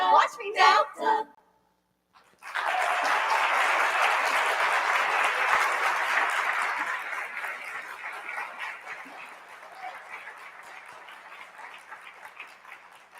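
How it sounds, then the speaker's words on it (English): Following a brief spoken line and a short pause, an audience at a school dance performance breaks into loud, dense clapping that slowly thins out and fades over several seconds. "One last round of applause for them."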